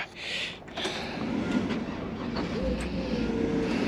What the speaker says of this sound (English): I forgot to crank the motor up.